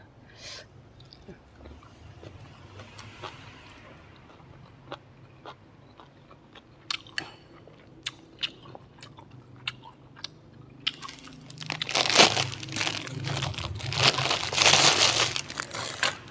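Crispy pork crackling crunched and chewed close up, a quiet series of sharp crisp bites that swells into louder, dense crunching toward the end, with no talking.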